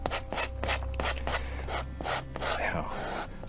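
A brush forced hard against canvas, working paint into the fabric with rapid repeated scrubbing strokes in an uneven rhythm, close up and continuous.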